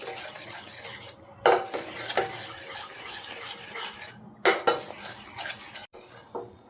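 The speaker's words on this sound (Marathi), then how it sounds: "छान मिक्स करून घेत आहे" A spoon scrapes and clinks in a pan as condensed milk is mixed for pink dragon fruit modak, in irregular bursts of stirring separated by short silent gaps, close and moderately loud with no speech.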